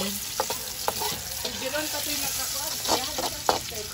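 Large onions dropped into a hot pan and sizzling steadily during home cooking, with utensil clicks and stirring taps over a constant frying hiss, heard close.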